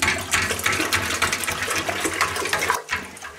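Warm water poured into a vessel while making yak cheese, a continuous splashing, gurgling pour that runs steadily close by before stopping briefly near the end.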